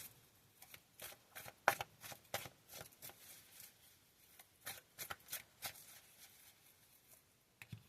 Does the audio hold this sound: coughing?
no